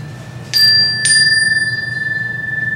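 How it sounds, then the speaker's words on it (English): Meditation bar chime struck twice in quick succession, giving bright pure metallic tones that ring on and slowly fade with a gentle shimmering pulse over a low background rumble. "Brian's holding on to a single bar chime, both of which emit crisp, pure sounds"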